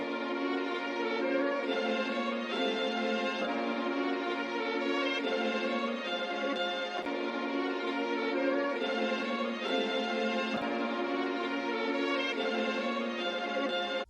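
Sampled strings melody layered with Yamaha grand piano bass notes in a hard sampled hip-hop beat style, dense and continuous, steady level throughout with no talking.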